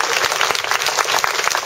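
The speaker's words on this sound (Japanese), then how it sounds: "森の熊さんに大きな拍手をありがとうございます。" Loud, close applause from an audience at a Japanese anime song stage event, a brisk patter of many hands clapping continuously through a short burst.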